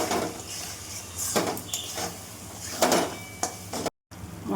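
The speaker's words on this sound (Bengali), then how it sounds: "মশলাটা ভালো করে কষে নেব।" Spice masala stirred and fried in a pot for a light homestyle mutton curry: close scraping of a spoon against the pot with metallic clinks and soft sizzle in uneven strokes, a brief cut near the end.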